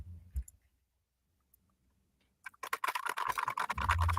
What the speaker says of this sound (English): I like the typing ASMR.